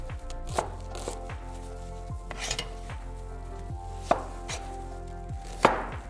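Onions being finely chopped with a knife on a board, a series of crisp irregular taps with a few louder knocks, close and clear, without talk.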